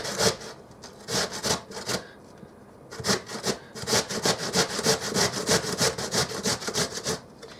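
Potatoes for hash browns are grated by hand, making close, rhythmic rasping strokes in quick runs with a short pause partway through and no talk.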